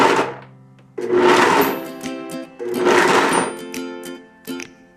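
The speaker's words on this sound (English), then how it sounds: "what I'm gonna do is just put it in the blender and pulse it a little bit." A blender pulses two cups of chopped walnuts in two loud bursts, each a rough grinding whir with rattling nut pieces that spins down between pulses, followed by a brief third blip.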